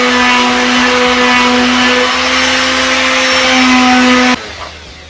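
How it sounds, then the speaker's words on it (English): Palm sander fitted with 80 grit sandpaper works the bevel on a small pallet wood cutting board, a loud steady motor whine with a strong hum running continuously for about four seconds before cutting off into quiet. "80 grit sandpaper on my palm sander"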